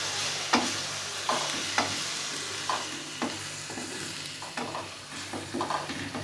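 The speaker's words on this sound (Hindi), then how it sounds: "प्याज जब नरम हो जाएगी तो इसमें मैं 1 टेबल स्पून अदरक लहसुन का पेस्ट ऐड कर दूंगी और इसको भी थोड़ा सा फ्राई कर लेंगे" Onion with ginger-garlic paste sizzles steadily in a pan as a spoon stirs it, giving a continuous close frying hiss broken by repeated scraping strokes, with no talking.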